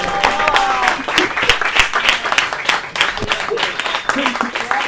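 Audience members at an Argentine gathering break into steady applause, a thick, continuous patter of clapping heard under a speaking voice.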